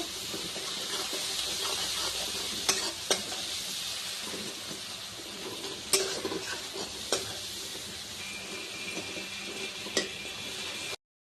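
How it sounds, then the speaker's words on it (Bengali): Onions and tomatoes sizzle steadily in a pan, close up, with a few sharp clinks and scrapes of a utensil against the metal. "এই যে আমার পেঁয়াজ টমেটো একদম ভাজা হয়ে গেছে।"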